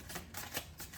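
Oracle cards shuffled by hand during a zodiac reading, a quick run of soft papery riffles and slaps in a short burst, close and fairly quiet with no talking.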